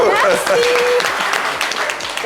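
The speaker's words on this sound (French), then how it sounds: "applaudissements pour elle" A studio audience applauds a singer, a brief patter of clapping running under lively talk from the hosts, with voices dominating throughout.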